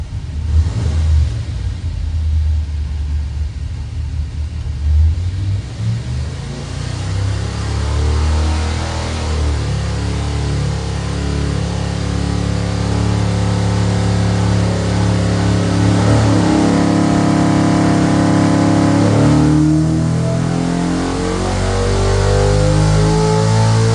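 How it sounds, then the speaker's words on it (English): A big 408 cubic inch Cleveland V8 engine revs on a dyno, loud and close, its pitch climbing to the high six-thousands then dropping back, repeated with a steady roaring drone between pulls. "it's amazing how it will rev high sixes with 408 cubic inch"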